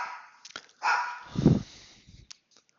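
A pet dog heard indoors in a home office, a couple of short close barks with a whimpering yip, loud and brief, no talking over it.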